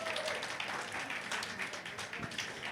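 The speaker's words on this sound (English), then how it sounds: "Give yourselves a round of applause" An audience at a pony fan convention keynote (PHPonyCon 2016) in Manila applauds, a steady wash of many hands clapping from start to finish, with a voice speaking over it.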